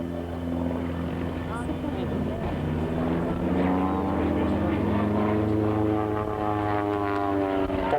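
An aerobatic propeller aeroplane performs torque rolls at a 1983 RAAF air show at Point Cook, its engine droning loud and continuous with a slowly shifting pitch.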